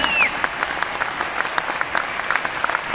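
A live stage audience gives steady, dense applause, many hands clapping together in a continuous crowd roar that holds through the three seconds.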